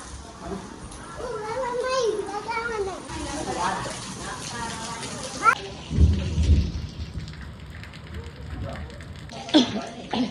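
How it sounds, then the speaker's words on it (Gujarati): Rain falling steadily with a rumble of thunder during a wedding gathering, heard beneath people talking and children's voices. "વરસાદ આવી ગયો"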